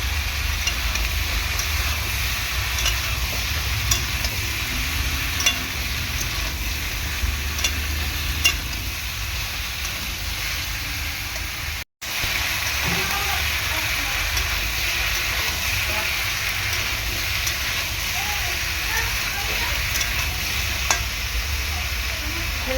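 Chopped tomatoes being added to a frying curry of tender pumpkin and fish head, giving a steady, loud, close sizzle with stirring throughout, broken only by a brief cut partway through, with a voice faintly talking underneath.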